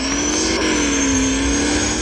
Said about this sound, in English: This is one of my favorite McLarens that I have.